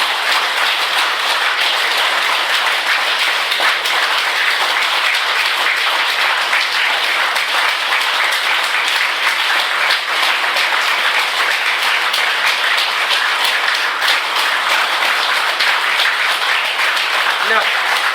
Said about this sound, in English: Close your eyes and clap. Continuously. Keep on clapping.